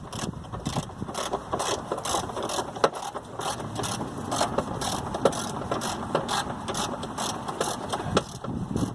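A hand ratchet clicks in fast, steady bursts while snugging upper wishbone bolts on a Honda Accord Mk6 Type R, close and loud over a low mechanical background.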